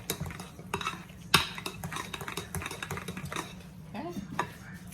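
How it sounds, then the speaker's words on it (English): Sweet potato pie ingredients, including butter, being mixed in a bowl: a utensil scrapes and clinks against the bowl in quick irregular strokes, close and fairly quiet, with a brief louder knock partway through. "Mix that up in here."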